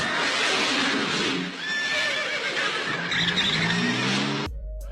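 A horse neighs in a Bollywood film action scene, a loud, drawn-out whinny set against a dense roar of engines, skidding tires and clattering hooves before the sound cuts off abruptly.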